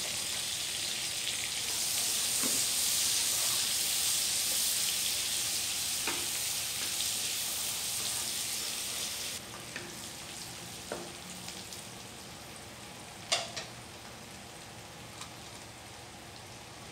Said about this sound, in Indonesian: aku tumis bawang-bawangannya dulu ini di sisa minyak tadi ya minyak habis goreng terinya